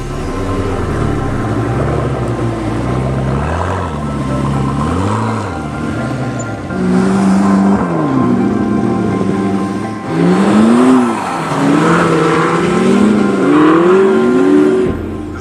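A McLaren sports car drifting on an ice track, its engine loud and close, rising and falling in pitch in repeated revving sweeps as it slides through corners, heard alone without voices.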